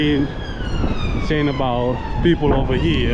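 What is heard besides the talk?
ambulance siren in Blackpool town centre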